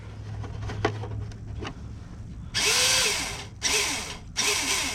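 Traxxas nitro RC truck engine cranked with a failing one-way bearing, sputtering in three loud buzzing bursts that try to catch but die, preceded by faint clicks and ticks.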